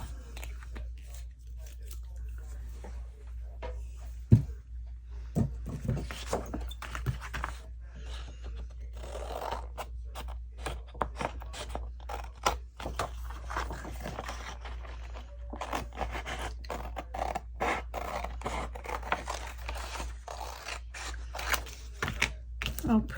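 Scissors cut out paper craft tags, and the snips and crisp paper scrapes fall irregularly and close over a steady low hum, with a few sharper clicks.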